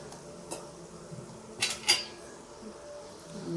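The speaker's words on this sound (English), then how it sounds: "Now I am going to take out a plate." A plate is pulled out from among other dishes, with a few clattering knocks of crockery and two brighter clinks close by, then quieter background hum.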